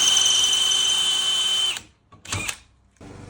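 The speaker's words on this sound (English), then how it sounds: "go ahead and drill a pilot hole or a center drill" Drill whines steadily while boring a pilot hole in metal for a camper jack release install, then stops, followed by a brief second burst and quiet handling noise.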